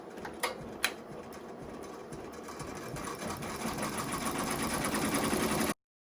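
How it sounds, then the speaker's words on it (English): An embroidery machine stitches a black outside border on a hooped mug rug, a fast steady rattling hum with a couple of sharp ticks at the start, building slightly before stopping abruptly. "I'm putting it on the hoop, and we're going to stitch this outside border"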